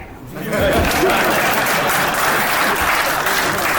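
Audience at a song launch event for Prem's film KD bursts into loud, sustained applause after a brief quiet start, dense clapping holding steady throughout.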